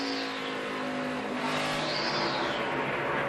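A NASCAR Sprint Cup race car on a qualifying lap at Phoenix, its engine a loud steady high-pitched roar that rises and falls in pitch as it sweeps past, with no talk over it.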